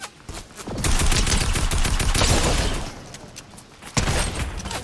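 Rapid bursts of gunfire in the video game Fortnite, loud and dense, with a sustained volley across most of the span and a sharp fresh burst near the end. No one speaks over it.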